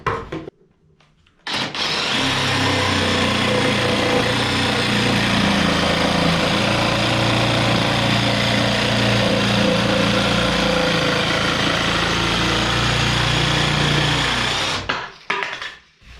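A low-cost cordless battery jigsaw cuts through MDF board, a loud, steady buzzing whine that starts abruptly, holds for about thirteen seconds, then stops with brief silence at both ends.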